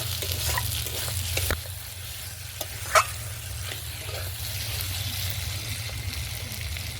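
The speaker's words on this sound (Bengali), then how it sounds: "তো ভালো করে নাড়তে হবে," Brinjal frying in a kadai is stirred, a steady low sizzle under occasional scrapes and clinks of the spatula against the pan, close and moderately quiet with no voices.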